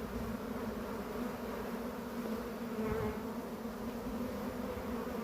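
Steady, dense buzzing of many honeybees close by, a continuous drone that holds at an even level throughout with no voices.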